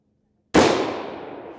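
A single sharp rifle shot at a long-range steel target, loud and close with a sudden crack followed by a long decaying rumble, alone with no talk.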